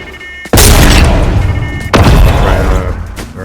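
A shockwave launcher fired twice in Fortnite Creative, each shot a loud booming blast with a rumbling tail, the two about a second and a half apart, no voices over them.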